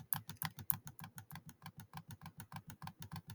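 Rapid, evenly spaced clicks, about twenty in quick succession, while clicking fast through presentation slides on a computer; close and crisp, with no speech.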